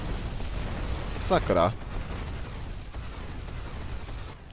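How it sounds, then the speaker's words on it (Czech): A massive bomb explosion in GTA Vice City, heard as a continuous heavy rumbling roar with a player's brief exclamation partway through. "Tak trošičku masivní výbuch."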